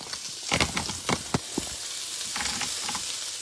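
Chicken sizzles and fries in a pan, a dense steady crackle with a burst of sharper pops and scraping stirs in the first half, close and loud with no talk.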